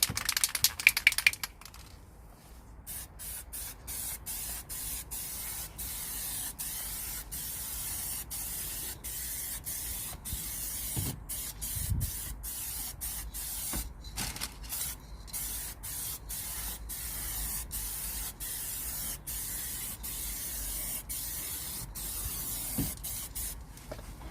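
Paint sprays from an aerosol can onto a VW T25 dashboard being coated black, heard as a steady close hiss broken by many short stops and restarts of the nozzle.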